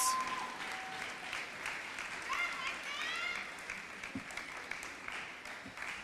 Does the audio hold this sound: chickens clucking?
no